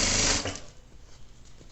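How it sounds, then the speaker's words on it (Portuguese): A sewing machine runs a short, fast burst of stitching along a seam of a shoulder bag, then stops, leaving quiet handling noise. "E vou rebater uma costura aqui, tá? Sempre puxando o material e fazendo uma costura bem bonitinha aqui"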